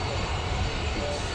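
Jet2 airliner departing Newcastle Airport, a broad steady engine roar filling the moment, loud and unbroken, with a voice speaking over it.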